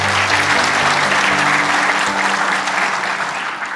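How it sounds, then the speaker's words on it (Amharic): An audience claps steadily and fairly loudly, a dense, continuous burst of applause that holds for several seconds before easing slightly toward the end. "ይያላችሁ አድርጉት አጨብጭቡ ለዚህ"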